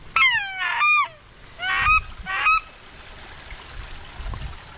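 Wild geese honk during a duck hunt, a few loud, close calls in quick bursts, then fading to faint background water and wind.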